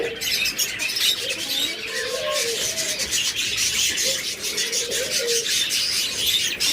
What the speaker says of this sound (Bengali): একদম বিগ সাইজের বাজরিগার পাখি।